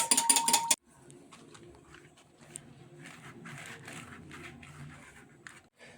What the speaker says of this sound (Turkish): yapmış olduğumuz sosumuzu e, kaşık yardımıyla gezdirip süreceğiz